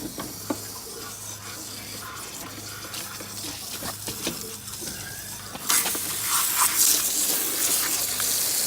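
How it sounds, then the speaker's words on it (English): Water rushes and splashes inside an Airstream trailer's water heater as a flushing wand washes out scale and debris. The hiss and gurgle become louder and brighter partway through. "I'm going to use this wand, and it is made specifically to go up inside your water heater and wash it out."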